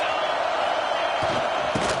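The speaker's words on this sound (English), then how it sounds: "this crowd is making it miserable on this offense" A loud, roaring stadium crowd fills a fourth-down moment in an NCAA football video game, a dense steady wall of noise with brief rises toward the end.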